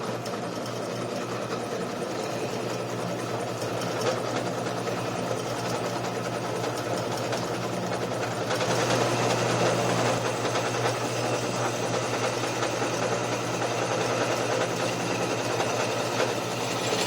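A power drill runs steadily while boring through the other side of a metal bracket in a cyclekart workshop, a sustained near whine that grows a little louder partway through.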